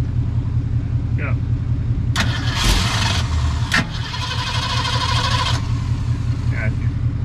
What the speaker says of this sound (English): Wait for that starter to stop making that noise before you do it